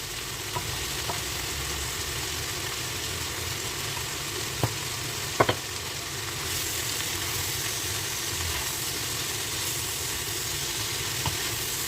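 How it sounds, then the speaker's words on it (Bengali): Finely chopped, salted bitter gourd fries in a pan with a steady, even sizzle that runs the whole time, broken by a few faint clicks near the middle. "আর রেখে দিব করলাটা ভাজা ভাজা হওয়ার জন্য।"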